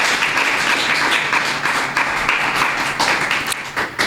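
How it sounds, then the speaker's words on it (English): Sustained applause from an audience at a primary school football awards ceremony, steady dense clapping filling the whole stretch with a few louder individual claps near the end. "You could give them a round of applause too."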